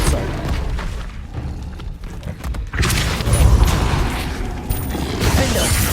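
Depulso spell fired in the video game Hogwarts Legacy: a rumbling, booming magical impact with mechanical clatter and thuds, loud and close, swelling again after a brief dip midway.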